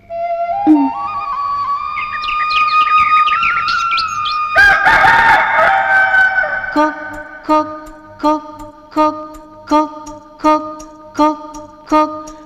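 A rooster crows with a long rising call, followed by a burst of loud noise and then a steady series of short, evenly spaced clucks or calls, close and loud, with no talking.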